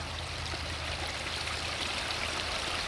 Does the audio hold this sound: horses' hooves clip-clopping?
no